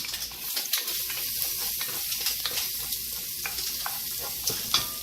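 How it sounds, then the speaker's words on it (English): Garlic sizzling in hot oil for Italian-style roast pork, a continuous crackling fry with irregular spits and stirring scrapes, close and fairly loud. "let that get hot. And you're going to put your garlic in"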